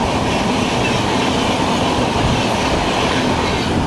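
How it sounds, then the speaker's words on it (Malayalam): The Kollam–Tirupati Express roars past at close range, a loud, continuous rumble of wheels and coaches with rhythmic rail clatter and faint squeal, no speech. "കൊല്ലം തിരുപ്പതി എക്സ്പ്രസ് ആയിരുന്നു."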